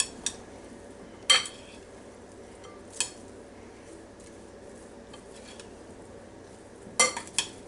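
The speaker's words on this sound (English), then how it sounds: "give everything a little stir" A utensil stirs potato salad in a bowl with salt, pepper and chopped green and red peppers, giving a few sharp clinks against the dish over a quiet background hum.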